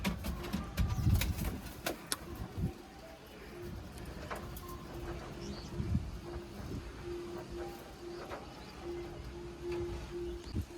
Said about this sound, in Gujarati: આપણે જો કબૂતર લાવ્યા છીએ 5, તમે જોઈ રહ્યા છો